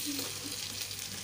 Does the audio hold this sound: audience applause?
no